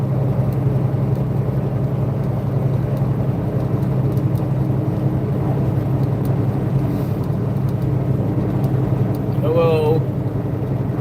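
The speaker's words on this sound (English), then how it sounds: "then the truck starts making all kinds of noise" A steady low rumble of a truck driving, constant and droning throughout, with a brief higher whine near the end.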